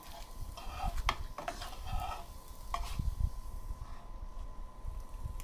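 Steady sizzling of milk-and-egg bread frying in a pan, with scraping and stirring clatters scattered throughout, close and continuous.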